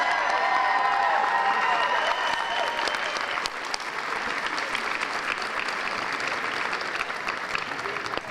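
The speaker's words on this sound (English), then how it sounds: "let's give them a round of applause" A school bridging ceremony audience claps in a full, sustained round of applause, with some cheering and crowd voices underneath as it gradually tapers slightly.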